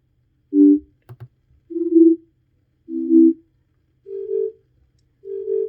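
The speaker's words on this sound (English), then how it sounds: "And you can kind of hear the delay when I press it." Short tones from a DIY step synthesizer with a stereo delay effect, five clean beeps at slightly different pitches spaced about a second apart, separated by faint button clicks in a quiet room.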